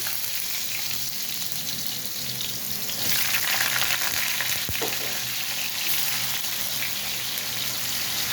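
Peeled, cut potato french fries drop into hot oil and fry with a steady, dense sizzle that swells louder partway through and stays continuous, with no one talking.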